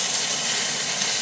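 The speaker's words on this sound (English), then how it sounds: "Okay, the meat's starting to sizzle" Bacon and chicken sizzle in hot oil in a pan over high heat, a loud, dense, continuous hiss and crackle with no voices.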